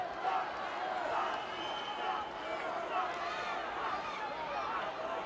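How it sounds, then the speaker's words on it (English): A capacity crowd at a 1984 WWF wrestling arena cheers and roars in a steady distant wash of noise, continuous throughout, with a commentator talking over it. "The crowd really getting on Greg Valentine right now, cheering Putski on."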